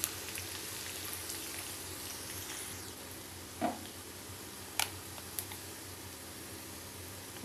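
Garlic cloves frying in oil until reddish, a soft steady sizzle like light rain that runs faint and even throughout, with a few brief louder crackles near the middle.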